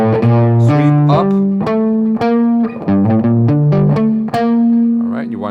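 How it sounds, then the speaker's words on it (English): A distorted electric guitar plays a sweep and alternate-picking lick in G Dorian. Quick bright notes come close and loud in a tumbling run, with one longer sustained note ringing out at the end. "practice with distortion and you'll hear if they're not coming clear"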